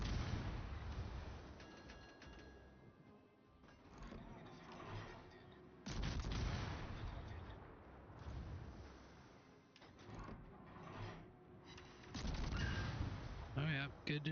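Warship guns boom in repeated heavy volleys during a World of Warships naval battle, layered with crashing impacts and rumbling explosions at irregular intervals, while a player talks intermittently over the action.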